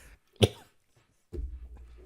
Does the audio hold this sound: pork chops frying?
no